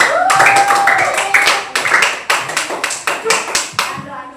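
Classroom of students clapping hands together, a burst of claps that settles into a steady rhythmic beat with children's voices mixed in, loud and close.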